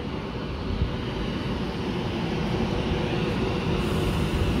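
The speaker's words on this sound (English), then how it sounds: "Next train is coming up past me." A train passes through Stockport station, a steady loud rumble that swells slightly toward the end, with no talking.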